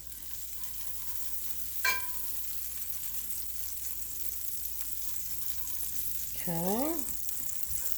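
Butter melting in a hot pan for German pancakes, giving a steady soft sizzle throughout, with a brief clatter near the start and a short spoken word.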